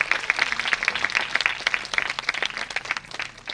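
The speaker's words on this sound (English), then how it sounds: "Let's give a huge round of applause to the legendary George Bernard Shaw" Audience applause at an annual English school play of George Bernard Shaw's Pygmalion, a dense burst of rapid hand claps from a crowd that holds steady and then thins slightly toward the end.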